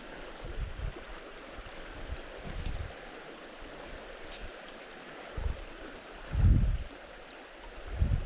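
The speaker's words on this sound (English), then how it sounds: "And the water's moving pretty fast." Fast, high water of Big Flat Brook rushes steadily as a broadband wash throughout, with occasional low thumps from wind or handling rising louder near the end; no clear speech.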